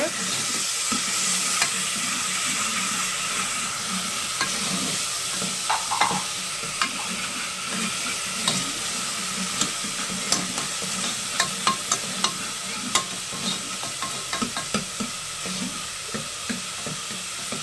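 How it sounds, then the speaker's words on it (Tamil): Ginger garlic paste sautéing in a pan for an egg chicken curry, with a continuous close sizzle and frequent scraping, clacking stirs that grow sharper and more frequent toward the end. "நல்லா அது பச்சை வாசம் போகிற வரலும் வதக்கி விட்டுருங்க இஞ்சி பூண்டு பேஸ்ட்டு"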